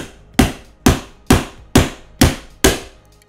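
A hammer strikes a webcam's plastic and glass housing six times in an even rhythm. Each blow is a sharp, loud smack that rings out briefly before the next, close up with no talking.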